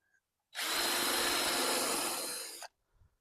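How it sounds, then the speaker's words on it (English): A drill-driven wire wheel grinds steadily against a diecast toy mower, a harsh, bright abrasive whir that starts abruptly, holds for about two seconds close to the mic, then cuts off. "with some wet sandpaper and a wire wheel"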